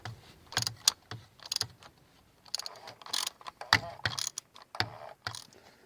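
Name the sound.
ratchet turning 15/16 socket on universal joint, oil drain plug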